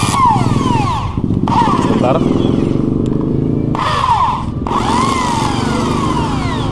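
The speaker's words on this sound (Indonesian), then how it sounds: "Jadi ini saya masukkan ke bor" Electric drill spinning a dual clutch part while it is scraped and turned by hand like a lathe, a loud whining motor with rising and falling pitch, grinding scrapes in bursts, and a brief voice between.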